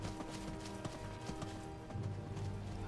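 Rhythmic clip-clop of horse hooves trotting in Skyrim at moderate distance, steady and continuous over a low ambient game background, with no talking.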